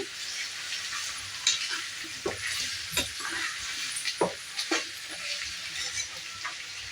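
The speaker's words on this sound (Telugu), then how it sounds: "ఇప్పుడు లివర్ వేసేసుకుందాము ఇలా వేసుకొని అంతా ఒకసారి బాగా మిక్స్ చేసుకొని ఫ్రై చేసుకోవాలి" Mutton liver frying in a pan with steady sizzling, broken by scrapes and knocks of a spoon as it is stirred several times, close and fairly loud with no talk.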